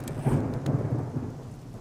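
A heavy rolling peal of thunder from the video game 7 Days to Die swells early and then rumbles on at a steady level, with a few faint clicks over it and no voices.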